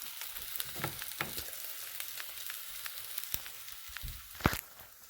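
A vegetarian omelet fries in a pan with a continuous close sizzle, dotted with sharp pops and crackles and a louder spit near the end, and no one speaks.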